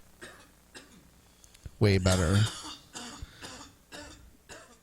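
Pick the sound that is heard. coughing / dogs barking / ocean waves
coughing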